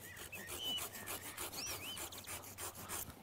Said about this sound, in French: Pour travailler au plus près du tronc, je vais utiliser ma scie.